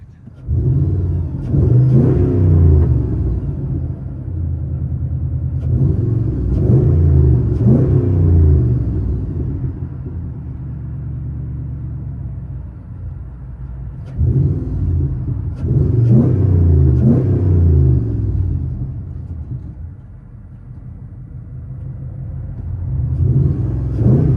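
Inside the cab of a lifted Dodge Dakota 4x4 with a 4.7L V8 and loud true dual exhaust, the engine is revved hard in repeated surges, each a deep, booming rise that falls back to a throaty idle between pulls.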